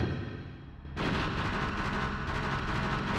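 A missile explodes in the video game Tunnel B1, opening with quieter game noise before a sudden loud blast at about one second, then a sustained rumbling roar to the end.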